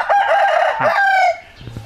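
A fighting cock raised for sale in Phayao, Thailand, lets out one loud, close crow lasting just over a second, followed by a few softer clucks.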